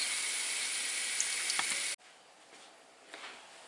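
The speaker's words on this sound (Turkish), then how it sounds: "Ben diğer hepsini bu şekilde kızartayım." Donuts frying in hot oil give a steady, fairly loud sizzle that cuts off abruptly about halfway, leaving a much quieter hiss with faint crackles.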